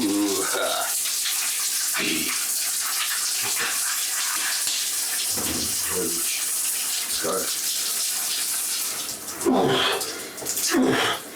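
Cold water pours steadily from a shower, a constant close hiss and splash throughout, with a man's breathy exclamations and short remarks breaking in over it.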